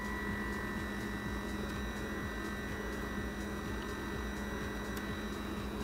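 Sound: pore vacuum blackhead remover humming

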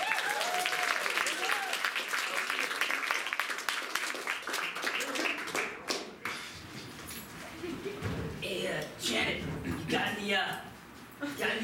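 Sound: audience applause

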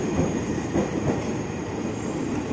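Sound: KRL commuter train entering adjacent platform track

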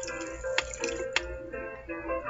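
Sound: boiling water poured in Whack Your Teacher video game

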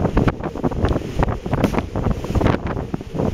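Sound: wind on the Bergen bay

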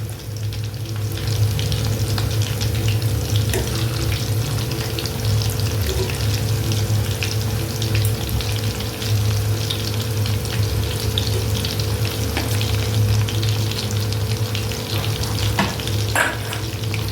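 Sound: thin chicken strips frying in oil

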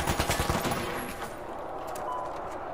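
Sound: pistol gunfire in the video game The Finals

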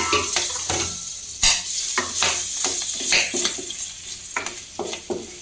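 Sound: green chillies frying in oil in a pan

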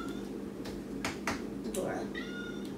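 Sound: kitten meowing, locked out of the kitchen

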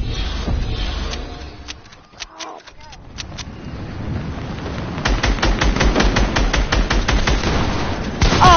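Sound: gunfire shooting in video game Fortnite

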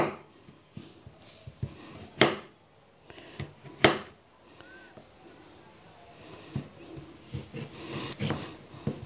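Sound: knife cutting radish into long strips

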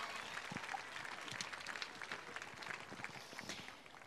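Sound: audience applause for dancers

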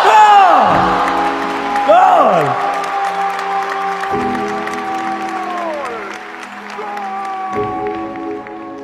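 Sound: audience cheering and shouting goal

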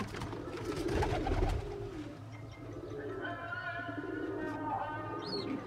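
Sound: pigeon chicks cooing in loft

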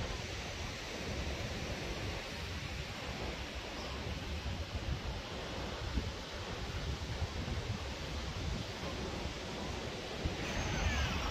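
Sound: strong wind at the seaside

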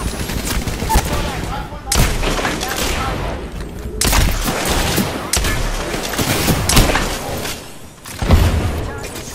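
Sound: gunfire in a video game

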